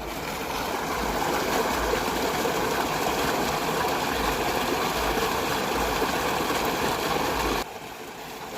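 Two irrigation pump motors run together in a maize field, pouring steady rushing water continuously over a low mechanical hum, close and loud, then dropping off abruptly near the end.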